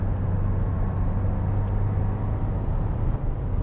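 A 2022 Subaru WRX with a six-speed manual gearbox picks up speed, heard from inside the cabin as a steady low engine and road drone without talk.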